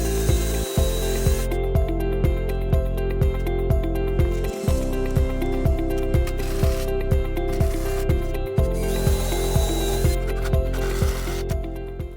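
Ratcheting power driver spinning screws into wood compost tumbler frame braces, a steady run of quick buzzing pulses with brief pauses between screws, close and continuous throughout.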